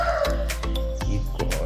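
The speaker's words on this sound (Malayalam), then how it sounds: "ഈ കോഴിയെ കൊണ്ട് ഭയങ്കര ശല്യം തന്നെ." A rooster clucks nearby in several loud, short, throaty calls spaced irregularly over a low background hum.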